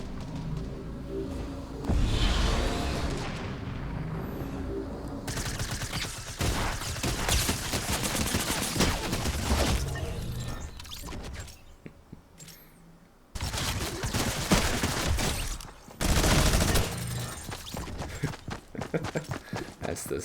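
SMG gunfire in a video game rattles in rapid sustained bursts with loud chaotic action noise and brief lulls, dense and close throughout.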